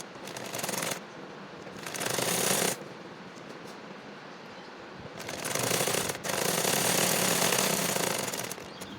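Sewing machine stitching a sleeve onto a child's top, running in two long bursts of steady rapid whirring separated by a quieter pause, close and alone.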